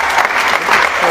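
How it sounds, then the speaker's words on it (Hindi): A brief, loud burst of dense applause from an audience at a car delivery celebration, steady clapping with no pause. "तो मैं चाहता हूँ एक बार जोरदार ताली।"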